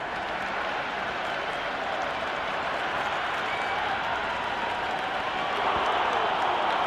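Steady crowd cheering and applause fills a stadium during a T20 international cricket match between Pakistan and Australia in the Cricket 26 video game, a dense continuous roar that swells slightly near the end.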